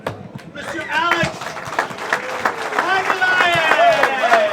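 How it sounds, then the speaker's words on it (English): Audience applause for the runner-up at the 2018 US Open 10-ball pool final, steady clapping across the whole stretch with a voice speaking over it and a few whistles near the end. "We have a great round of applause for our runner-up"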